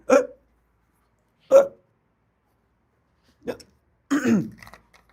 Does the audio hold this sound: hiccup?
yes